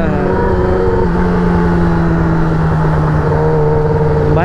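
Yamaha R6 sport motorcycle engine running steadily while ridden, a loud, continuous close-up drone with sustained pitch and a brief rise near the end.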